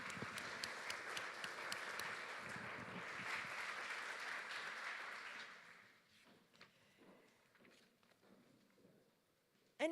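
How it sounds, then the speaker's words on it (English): A conference audience at a citizens' energy forum in 2023 applauds at the end of a session, a broad, even clapping wash for about six seconds that fades into quiet room sounds and a few scattered claps. "a big round of applause"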